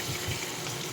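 Small frozen shrimp still coated in ice frying in a pan, a loud, dense, steady sizzle and crackle filling the moment, close up with no voices.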